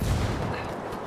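Gunfire crackles in a brief, dense burst of rough noise during a Ghost War multiplayer match in a village map, moderately loud with no pauses.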